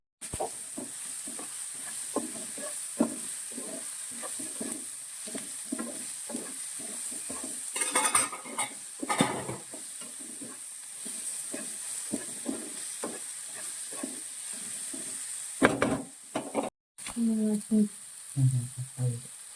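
Spices for prawn biryani fry in a pan with a continuous hiss as a utensil stirs them, giving repeated scraping clicks against the metal, steady and close.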